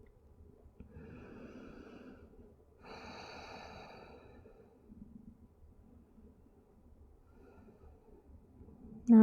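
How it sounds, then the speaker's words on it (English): Slow deep breaths during a gentle yoga session, a long airy inhale and exhale heard close and soft, with quiet pauses between and a brief louder noise at the end. "Another breath here."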